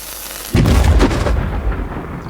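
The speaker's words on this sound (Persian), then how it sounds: "نگاه کنید الان نارنجک من بمب من ترکید" A grenade bomb explosion sound effect for a Moho animation hits as one sudden, booming blast, followed by a rumbling tail that slowly fades, loud and close with nothing else around it.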